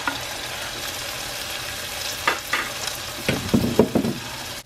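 Green onions and tomatoes fry in hot oil with a steady close sizzle, followed by a few sharper bursts of spattering and crackling near the end.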